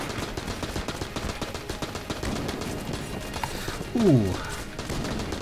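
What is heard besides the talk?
AK gunfire in the video game Enter the Gungeon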